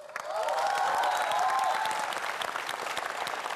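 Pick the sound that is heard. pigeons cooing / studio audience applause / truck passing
studio audience applause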